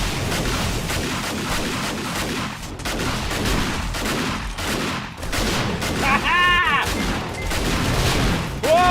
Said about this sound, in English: bomber just blew up right there